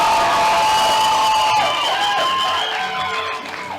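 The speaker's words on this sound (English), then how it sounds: "Applaud your parents." A graduation audience at a Klamath Community College commencement cheers and applauds for parents: a loud, dense crowd roar with whoops and shouts, steady for several seconds before easing off slightly.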